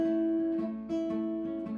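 Guitar fingerpicking on the 4th, 3rd and 2nd strings, a steady and fairly quiet repeating pattern of plucked notes that ring into each other, with no voices.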